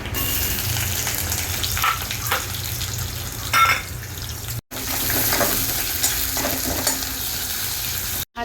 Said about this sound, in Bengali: লঙ্কাটা ভাজা হয়ে গেলে দিয়ে দেবো কুচানো পেঁয়াজ